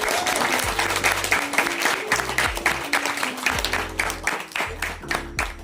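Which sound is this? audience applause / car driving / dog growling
audience applause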